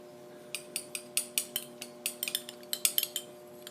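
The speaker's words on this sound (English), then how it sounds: "we take a little teaspoon and we mix that all up" Small teaspoon stirring wasabi into a dish of dipping sauce, rapid repeated clinks and taps of metal against ceramic, close and fairly loud over a faint background hum.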